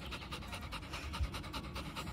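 A dog pants quickly and rhythmically in a garden, close and fairly soft, with quick even breaths and a faint low thump partway through.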